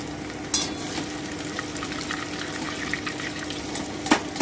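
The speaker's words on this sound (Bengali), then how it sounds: "এবারে ফ্রাই করে নিচ্ছি এই যে আমার চিকেনটা" Chicken pieces fry in hot oil in a pan with a continuous crackling sizzle, broken by a couple of sharp clinks and stirring sounds.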